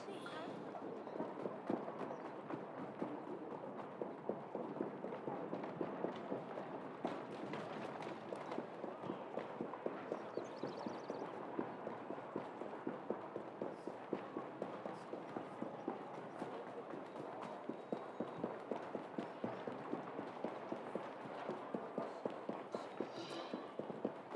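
Horse hooves clip-clopping in the video game Assassin's Creed Syndicate, a fast steady galloping rhythm of hoof beats running throughout, with someone talking over it.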